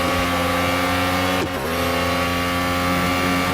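Fully upgraded Ferrari race car in a racing video game at Yas Marina, its engine droning loud and steady with layered harmonic whine, briefly dipping mid-way as if shifting or braking before resuming the sustained roar.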